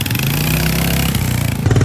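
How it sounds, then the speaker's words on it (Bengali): A Royal Enfield Hunter 350 motorcycle on a test ride gives a steady, close engine drone that holds an even pitch throughout and swells slightly louder near the end. "এরপর আমি তাদের হান্টার বাইকটা টেস্ট ড্রাইভ দেই।"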